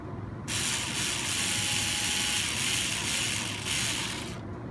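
Screws being tightened into the frame of an RC 4x4 CR12 crawler during a bull bar install, a steady close ratcheting buzz running for about four seconds with no talk.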